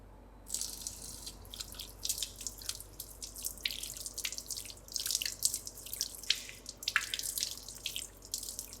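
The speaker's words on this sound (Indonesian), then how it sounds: "kita basahkan tangan terlebih dahulu dengan air mengalir" Running tap water splashes over hands as they are wetted before an aseptic hand wash, with irregular close bursts of splashing and dripping, fairly quiet and without talk.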